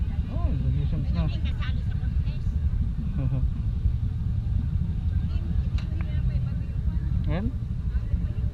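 Busy road traffic with cars and motorcycles passing, a constant loud engine rumble with horn-like tones rising and falling and people talking over it.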